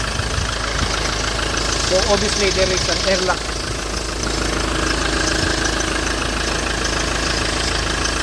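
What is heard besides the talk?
Ford Transit engine running after troubleshooting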